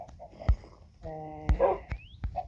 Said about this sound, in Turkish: Ama köpekler köpeklerim evcil.